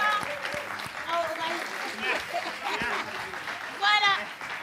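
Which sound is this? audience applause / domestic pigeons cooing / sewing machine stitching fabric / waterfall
audience applause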